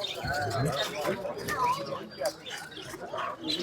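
Caged birds chirp and call at a bird market in Margilan, mixed with the chatter of people talking nearby, a busy crowded setting with voices over the birds.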